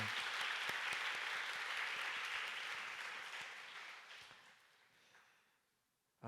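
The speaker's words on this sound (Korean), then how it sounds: "우리 한번 하나님께 감사합니다 하는 그런 영광의 박수 함께 돌렸으면 좋겠습니다" Church congregation applauding to celebrate the church's birthday, a dense burst of clapping that starts full and close, then gradually thins and fades out over several seconds before a brief sound at the very end.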